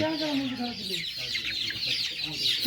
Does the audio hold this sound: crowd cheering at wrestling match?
no